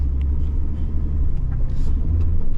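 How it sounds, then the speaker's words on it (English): A pickup truck towing a trailer drives along a road in Alaska, a steady close low rumble of engine and tyres with a faint voice briefly audible under it. "I'm gonna run up there with my truck and trailer"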